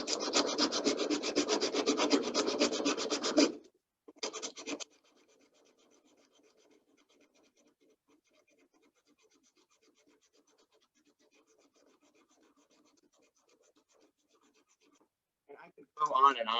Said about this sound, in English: Switch to the sandpaper.